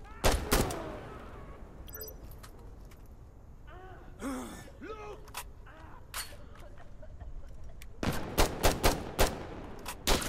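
Bursts of gunfire in Insurgency: Sandstorm, single shots and rapid volleys, crackle over a muffled background, growing denser toward the end.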